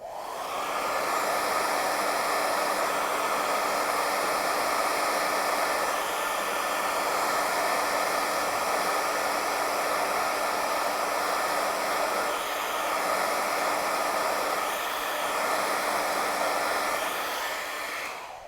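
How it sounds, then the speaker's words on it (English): A blow dryer runs steadily for the whole stretch, a loud, close whooshing roar with a slight wavering as it moves back and forth. "use the blow dryer, move it back and forth"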